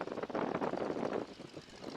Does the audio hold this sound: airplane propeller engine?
yes